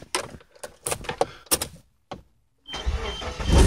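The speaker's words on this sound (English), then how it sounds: "Just check to see if the car starts." Suzuki SX4 engine starting just after a battery replacement: several bursts of mechanical clatter and clicks, a brief pause, then the engine catches and runs with a steady, loud rumble close by.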